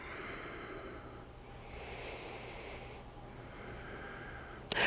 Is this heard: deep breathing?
yes